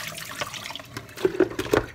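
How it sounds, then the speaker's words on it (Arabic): Cold tap water runs again over boiled dandelion greens in a colander, a soft splashing flow with a few sharper gurgles toward the end. "بعدها سخنة عشان هيك رح اكب كمان مرة المي"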